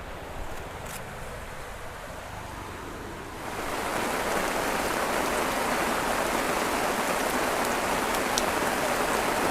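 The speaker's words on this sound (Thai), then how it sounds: "ฝนตกตลอดทางเลยค่ะ เจอฝนนะคะ ตอนนี้ก็ยังตกไม่หยุดเลย" Steady rain falls at a streamside tent campsite in Kaeng Lan Rak, Saraburi, with a dense, even hiss that swells heavier partway through and continues without pause and without voices.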